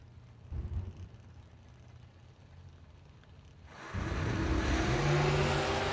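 A drag race launch between an Olds Calais and a 1969 Pontiac Firebird: distant idling engines, then a sudden loud roar as the cars leave the line and keep accelerating hard.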